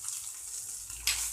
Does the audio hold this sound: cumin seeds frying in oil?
yes